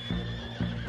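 A horse in the Red Dead Online video game gives two short, close snorting whinnies about half a second apart over a steady game background hum.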